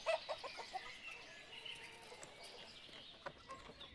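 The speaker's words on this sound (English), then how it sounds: "But yeah, we got chickens." Chickens cluck in a farming village in Ostriv, with short, sharp calls scattered over a few seconds against a quiet background and no talking.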